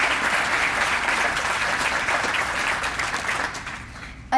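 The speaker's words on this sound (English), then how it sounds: "So let's give Lupe a round of applause." Sustained applause from an awards ceremony audience honoring Lupe at the Cesar Chavez Awards, a dense steady clatter of many hands that holds throughout and tapers slightly near the end.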